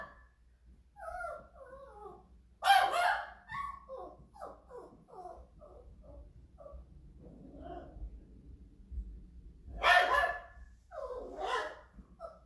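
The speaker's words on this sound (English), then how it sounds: "You guys may be hearing Bowie, our toy poodle. He's an old dog." An old toy poodle barks in short bursts indoors, with loud clusters of yaps standing out against a quiet room and softer whimpers and sounds between.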